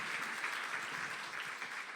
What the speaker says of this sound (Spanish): un fuerte aplauso otra vez para Juli.